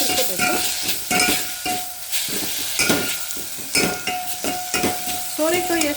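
Bottle gourd fries in ghee in a pan while being stirred, close up and loud, with sizzling under repeated scraping and clattering strokes of a spoon against the pan.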